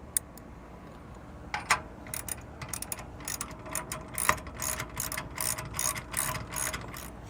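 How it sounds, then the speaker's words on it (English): A ratchet with a long socket tightens down a trailer spare tire mount, giving quiet scattered clicks at first and then a quick series of crisp pawl ticks as the handle swings back and forth. "we can come back with our ratchet and a longer socket and tighten it down"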